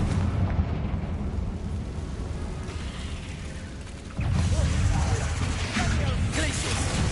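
Fiery Confringo explosion spell in Hogwarts Legacy, a mechanical rumble building before a loud burst lands around the middle, followed by crackling, clattering combat noise close up.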